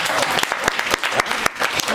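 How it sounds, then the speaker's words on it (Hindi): Applause from an audience celebrating Ekta didi's birthday at a Shri Hari Jayanti gathering, with dense, steady clapping throughout and sharp individual claps standing out near the front. "एकता दीदी का ताली बजाओ"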